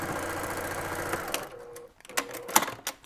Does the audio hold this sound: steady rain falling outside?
no